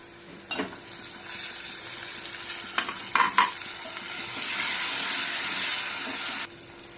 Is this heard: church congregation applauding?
no